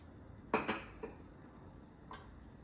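Metal pan and utensils clink and knock a few times in a kitchen, two louder clanks close together followed by fainter taps, as olive oil goes in to begin a risotto with asparagus.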